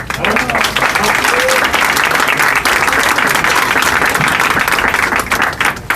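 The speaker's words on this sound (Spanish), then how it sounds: "Un aplauso, por favor." Sustained audience applause for a speaker at a university conference in Puebla, loud and dense with steady clapping throughout, a few voices mixed in.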